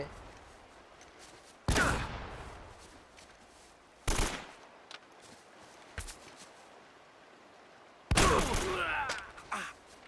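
Gunfire in the action video game Uncharted: Drake's Fortune, four separate loud shot bursts a couple of seconds apart, the last a longer cluster of shots with ringing tails, over a quiet background.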